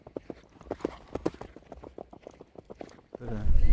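Hooves of endurance horses clip-clop at a steady trot during a 160 km ride at Castelsagrat, a string of sharp close hits followed by a burst of louder rumbling noise at the end.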